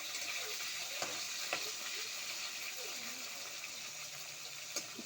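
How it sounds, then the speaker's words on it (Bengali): Food stirred in a pan with salt: a soft steady sizzle with a few light clicks of the utensil against the pan, quiet and close, with no talk. "নুন দিয়ে নাড়াচাড়া করব"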